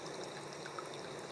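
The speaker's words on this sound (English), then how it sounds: "I'll be on here for a little bit, listening to the water." Water flows in a soft, continuous hiss and trickle, steady and fairly faint, with no other sounds breaking through.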